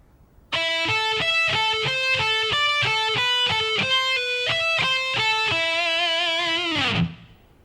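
Distorted electric guitar solo lick played slowly on the high strings, a steady sequence of sustained, clearly separated notes ending on a long held note that fades out, loud and alone.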